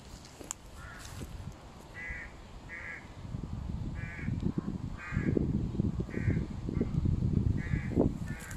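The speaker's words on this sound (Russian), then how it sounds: "Ворона орёт" Crows caw loudly and repeatedly in short harsh bursts, roughly one every second, over a low rumbling background outdoors in a desolate abandoned area.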